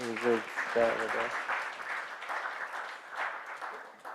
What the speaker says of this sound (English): Please clap for the MCI team.